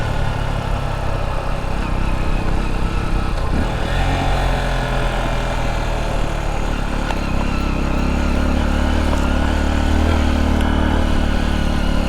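A 2023 Honda XR150L motorcycle rides along, its single-cylinder engine droning loud and steady over rumbling wind and road noise, with the low growl thickening in the last few seconds.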